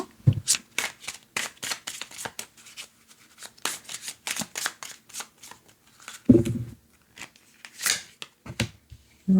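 Tarot cards are shuffled and handled at close range, with a rapid series of crisp riffling and slapping bursts, a few soft thuds in between.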